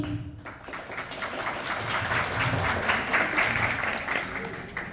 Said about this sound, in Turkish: Hüseyin gibi oğlum arkadaşınıza bir alkış.